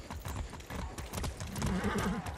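Steady clip-clop of horse hooves trotting at a quick, even rhythm in Far Cry 6, close and moderately loud, with a brief whinny near the end.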